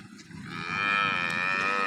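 A cow just unloaded from a vehicle lets out a long, loud, drawn-out moo that swells and holds steady, with a little rustling at the start, in a village in Tharad, Banaskantha, Gujarat.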